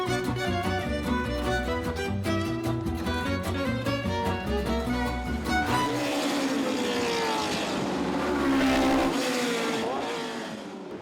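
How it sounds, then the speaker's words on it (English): A 1974 Lola T370 race car roaring through the Monaco Historic street circuit past the Hotel de Paris; music fills the first half, then a loud engine note rises and sweeps past in the second half. "This is a 1974 Lola, commissioned by Graham Hill for the 1974 season"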